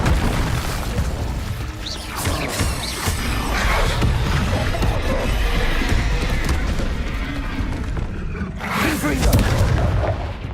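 A fire spell from the Hogwarts Legacy video game roars and booms through a dense, loud stretch of battle noise, with crackling bursts and a heavy whoosh near the end, all continuous and close.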